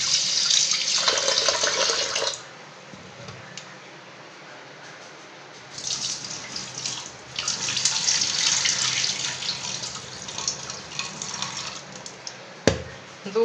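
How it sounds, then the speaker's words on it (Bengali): Split chickpeas (chana dal) get rubbed and rinsed by hand in a bowl under a running tap, water gushing and sloshing in two long bursts with a quieter pause between, then a brief clatter. "এইভাবে কচলে কচলে একটু ধুতে হবে।"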